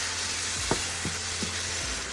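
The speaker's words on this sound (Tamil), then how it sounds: "சும்மா ஒரு நிமிஷம் அப்படியே வதக்கிடுங்க." Grated raw mango with coriander leaves sautés in a pan for mango rice, a steady close sizzle broken by a few soft scraping strokes of a spoon.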